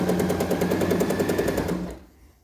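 Sewing machine stitching a seam allowance on a garment, a rapid steady mechanical rattle of needle strokes for about two seconds before stopping abruptly.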